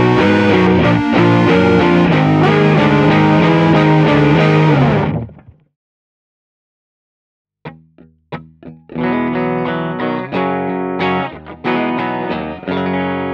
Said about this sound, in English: That was the bypass sound